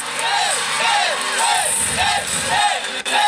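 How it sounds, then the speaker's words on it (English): Loud, dense crowd cheering with repeated rising whoops fills a women's college gymnastics meet between Air Force and Clemson, swelling continuously for a few seconds. "The crowd is so excited."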